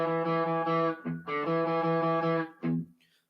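Fast electric guitar riff played with alternate picking, bright sustained distorted notes in quick runs, close and loud with no talking, ending in a brief pause before a last short burst that fades out.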